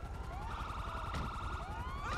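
Wailing police car siren in GTA V Online, loud and continuous with rising and falling sweeps, pursuing the player in a game scene.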